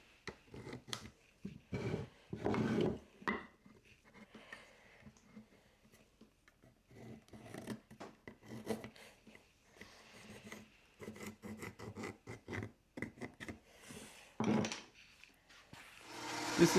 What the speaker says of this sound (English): I trace circles and then cut them on the bandsaw